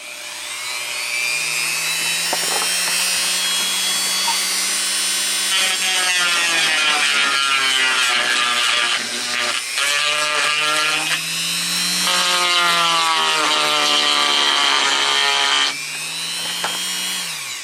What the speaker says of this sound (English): Switch to the barrel sander.